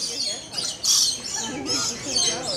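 A bird calls with short chirps and squawks at Tampa zoo, close by, under and between a child's and adults' chatter.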